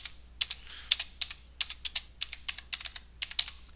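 Rapid bursts of keystrokes on a computer keyboard, close and clear, typed in short irregular runs with brief pauses, with no voices.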